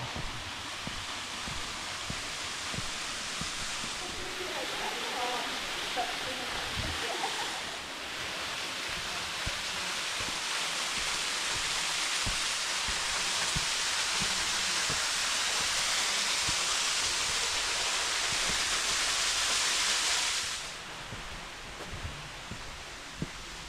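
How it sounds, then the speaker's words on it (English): Waterfall heard from a cliff top walk in the Blue Mountains, Australia: a steady, broad rushing roar, constant and fairly distant, that swells louder through the middle before easing off near the end, with no talking. "Waterfall."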